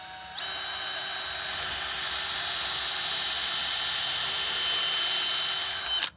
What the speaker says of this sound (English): while I drill the pilot hole for the 5/16 inch bolt that's going to go through here